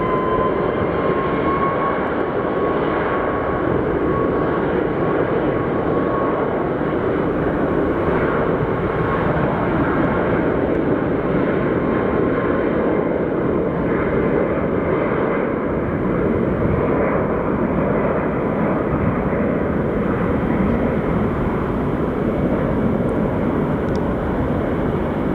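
A Southwest airliner on flight 507 to Dallas rumbles at Phoenix Sky Harbor Airport, its engines giving a steady, loud whine and roar that carries on unbroken for the whole stretch without talk.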